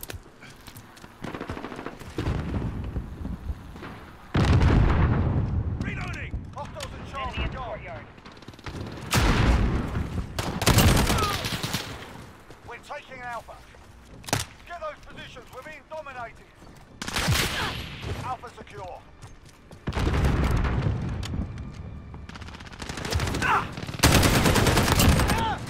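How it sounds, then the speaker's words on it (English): Video game battle with a cruise missile launch, bursts of gunfire and heavy booming explosions coming in loud waves, with someone talking over parts of it. "Cruise missile, go for launch."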